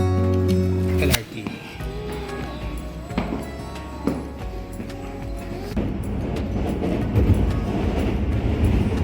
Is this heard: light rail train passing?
yes